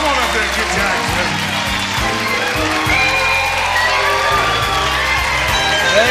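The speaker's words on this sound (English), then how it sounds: "Let's give him a big round of applause." Audience at a blues concert applauding and cheering, loud sustained clapping with whoops and shouts, low stage rumble and voices mixed underneath.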